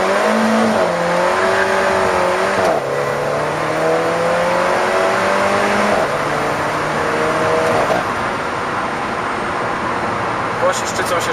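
An Alfa Romeo 4C sports car launches hard under launch control, its engine note climbing loudly and steadily through several quick gear shifts, each one briefly dropping the pitch before it rises again.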